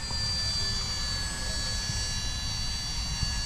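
Small Esky 150EC scale RC helicopter lifting off in calm conditions, a steady high-pitched electric rotor whine with tonal harmonics holding at a constant level throughout, close by with low rumble underneath.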